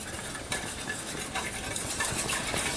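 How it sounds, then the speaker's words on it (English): A whisk clatters briskly in a bowl of beef and broccoli sauce made with honey and garlic, quick uneven scraping and tapping strokes at close range, fairly quiet and continuous. "we just want to whisk this really good together"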